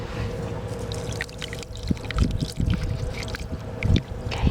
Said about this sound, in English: Oh, I just love the sound that sand makes.